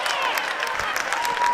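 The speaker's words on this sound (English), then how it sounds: "Here come the claps from the team." Rhythmic clapping from a basketball team at a boys and girls high school game in a gym, steady and fairly close, mixed with crowd noise and some talk.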